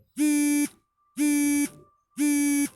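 An electronic alarm buzzer sounds three times in an even rhythm, each harsh buzzing tone lasting about half a second with short silent gaps between, loud and close, with no talking over it.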